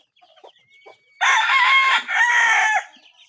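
Talisayin rooster crowing loudly and close by in one long two-part crow, preceded by a few soft clucks.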